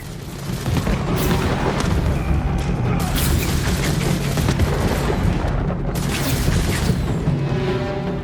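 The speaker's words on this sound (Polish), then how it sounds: "Fajerwerki, fajerwerki." Fireworks exploding during a castle assault in the video game Ghost of Tsushima, a dense continuous roar of booms and crackles with loud cracks layered over the din throughout.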